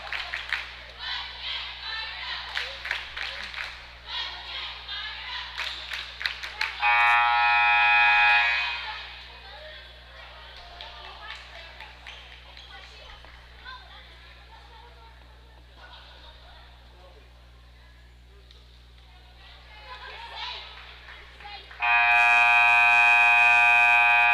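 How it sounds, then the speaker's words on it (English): At a boys' high school basketball game in a gym, a loud, harsh timeout buzzer blasts twice, each blast lasting a few seconds, over crowd noise and cheering. "the timeout buzzer sounds"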